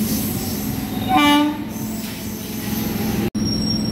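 A local train running from Kolkata to Digha: a steady rumble of wheels on track, with a clear horn blast rising above it for a moment.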